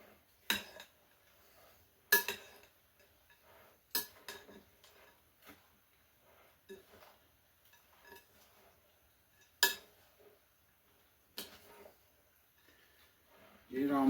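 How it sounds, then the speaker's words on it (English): A spoon clinks against a bowl while stirring dissolved jello for a cranberry salad, with scattered sharp taps at uneven intervals amid quiet background. "Let's go ahead and give this a mix."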